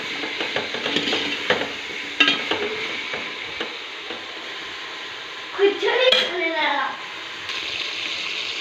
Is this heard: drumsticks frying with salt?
yes